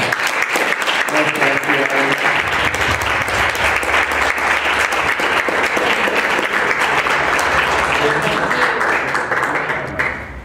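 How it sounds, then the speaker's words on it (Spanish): Audience applause after a talk at a SOMA Wednesday session, a full, sustained crowd clapping lasting about ten seconds before tapering off at the very end. "Les pido un pequeño aplauso para..."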